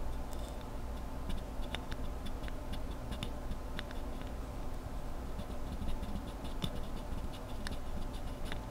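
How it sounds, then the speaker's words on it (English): An unlubed Novelkeys Cream keyboard switch pressed repeatedly, giving faint, scattered scratchy ticks and clicks over steady background hiss, with no talking. "That's the sound of the friction that we're trying to get rid of."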